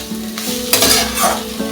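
A veg patty filling seasoned with Maggi masala is sautéed and stirred in a pan, giving a loud, close, continuous sizzle with scraping spatula strokes and a few clinks, with no voices.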